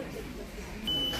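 A checkout scanner in an Action discount store gives a single steady electronic beep near the end, heard over the busy murmur of shoppers and store noise, with talking in the background.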